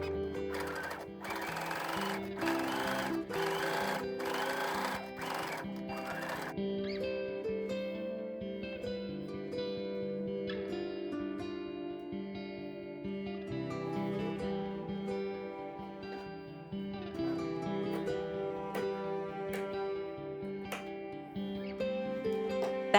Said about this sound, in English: sew an edge stitch right along the border,